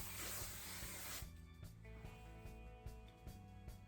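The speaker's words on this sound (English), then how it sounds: "I'm using the Moroccanoil Luminous Hairspray in Extra Hold." Moroccanoil Luminous Hairspray Extra Hold sprays onto curled hair in one steady hiss lasting about a second, followed by quiet handling sounds.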